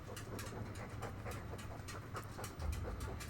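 Dog panting in the video game Dragon Age II, a fast, steady, breathy rhythm over a low background hum, no talking.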